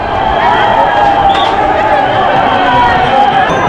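A dense crowd of pilgrims fills the Pune to Saswad wari procession following Dnyaneshwar Maharaj's palanquin, a loud continuous wash of many voices and movement all around, with talk close by.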